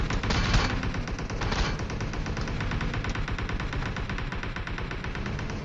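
Sustained video-game gunfire from an enemy with an M4 rifle, a dense, loud run of rapid shots filling the whole stretch with no pause.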